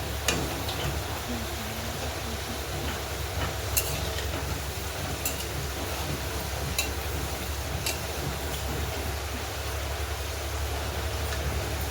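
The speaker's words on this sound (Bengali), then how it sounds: "মাংসের আলু ভাজছি।" Steady close sizzle of potatoes frying in oil for a meat curry, with occasional small ticks and scrapes, no talking.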